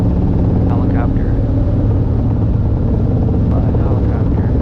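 Robinson R22 helicopter cabin noise during a flight lesson near a runway, a loud, constant rotor and engine rumble filling the whole stretch, with faint radio chatter mixed in.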